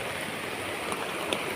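A swollen river rushing strongly during Typhoon Basyang in Sumaguan, Argao, Cebu, a dense steady roar of flowing water with faint splashes, close and continuous without talking.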